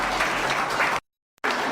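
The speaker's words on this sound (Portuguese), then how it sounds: "Bate as palmas bem forte para o Senhor." In a Pentecostal church, a congregation claps for the Lord in a dense burst that drops out abruptly to silence before briefly resuming.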